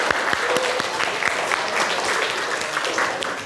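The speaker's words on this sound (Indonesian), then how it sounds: "Terima kasih Zada, beri aplaus dulu buat Zada." A classroom group claps for a student, a steady patter of many hands at moderate loudness carrying evenly through the short stretch with no talking.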